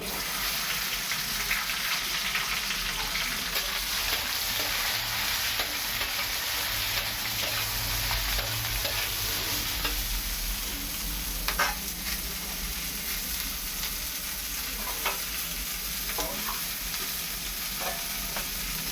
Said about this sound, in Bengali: এবারে আমি ভেন্ডিটা ভেজে নেবো একটু